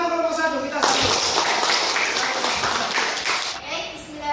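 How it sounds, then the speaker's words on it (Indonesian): Classroom audience clapping for a presenting group, a short burst of many hands that swells and fades, with voices speaking before and after. "Tepuk tangan untuk kelompok 1"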